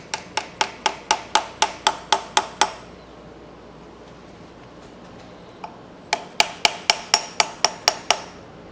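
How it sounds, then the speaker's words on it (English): Dead blow hammer strikes a part on a 12 valve Cummins engine in sharp, evenly spaced blows, a run of about eleven, a pause with one lone hit, then another quick series of about ten. "Gonna use a dead blow."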